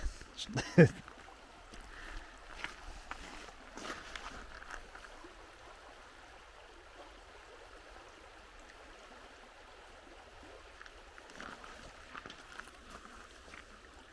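Wildcat Creek near Adams Mill Covered Bridge flows with a soft, continuous rushing wash, heard at a moderate distance and fairly faint, with a brief sharper splash or knock near the start.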